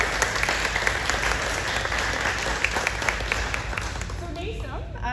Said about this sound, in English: And you can clap, you're amazing.